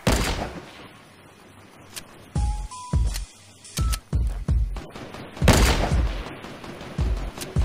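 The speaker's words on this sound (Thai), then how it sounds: "ยิงยากมากครับสไนอ่ะ" Gunfire in the video game Fortnite, a series of sharp, loud single shots spaced irregularly over several seconds with a couple of louder cracks, plus short tonal game effects between them.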